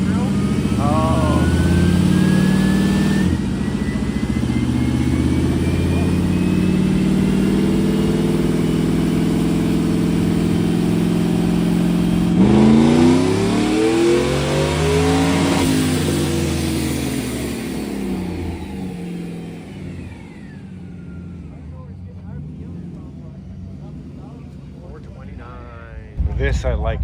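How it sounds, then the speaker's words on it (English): A supercharged, fuel-injected Chevy engine in a hot rod at a Louisville car tour stop: a loud, steady rumble that surges in a few sharp revs partway through, then fades away toward the end. "So it's a blown Chevy fuel injected."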